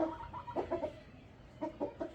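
Rooster on a farm clucking in two short bursts of rhythmic calls separated by a quieter pause, close and moderately loud with no talking.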